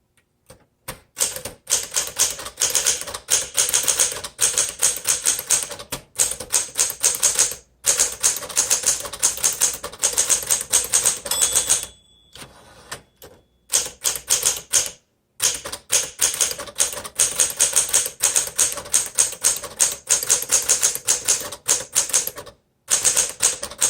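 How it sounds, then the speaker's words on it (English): 1964 Smith Corona Sterling manual typewriter typed steadily up close, with dense rapid clacking keystrokes in long runs broken by brief pauses and a carriage-return ding near the middle, no voices. "All right, let's do all the keys."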